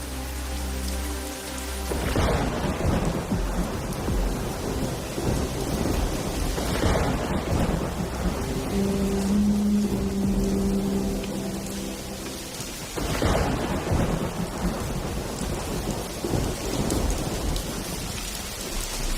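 Heavy rain pours steadily in a thunderstorm, a dense continuous hiss, while several deep rolling thunderclaps break in at intervals, loud and near, with no voices.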